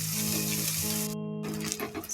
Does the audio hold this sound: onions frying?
yes